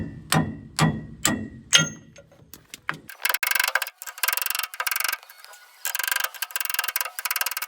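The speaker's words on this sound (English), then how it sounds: "Just hammer them out." Sharp metallic hammer blows knock out crusty drum brake parts on an old vehicle. A few slow, ringing strikes come first, then a fast run of harsh, clattering hits in uneven bursts, close and loud.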